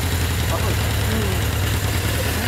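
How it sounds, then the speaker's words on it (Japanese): An original 1982 Suzuki GSX750S Katana motorcycle, first-generation S1, idles with a steady, even engine rumble close by while people talk over it. "エンジン音聞かせてもらえますか"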